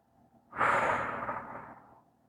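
A single long exhale during a yoga pose, a soft airy breath out that rises quickly and fades slowly in a quiet room.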